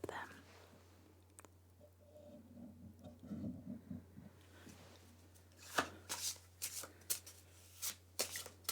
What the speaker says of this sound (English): now I'm going to shuffle you a moon oracle card